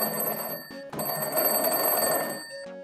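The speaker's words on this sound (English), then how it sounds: "This is a crank handle telephone in late 1890s." A crank-handle telephone from the late 1890s rings, a steady electric bell with a short break near one second, then continuing loudly and cutting off before the end.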